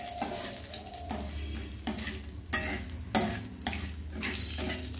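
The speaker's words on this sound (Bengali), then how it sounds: "তেজপাতা ফোড়ন দিলাম, একটা দারচিনি, 2টো এলাচ আর 2টো লবঙ্গ ফোড়ন দিলাম। ফোড়নটা আমি ভেজে নেব।" Bay leaf, a cinnamon stick, two cardamom pods and two cloves fry in two spoons of oil, a soft steady sizzle broken by repeated scraping stirs of a spoon against the pan, close and with no talking.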